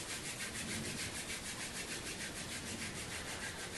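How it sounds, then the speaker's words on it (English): Palms rubbing briskly together to warm the hands during a desk-side wellness routine, a continuous close dry swishing friction that holds steady without pause and with no talk. "Let's take the palms and rub them together."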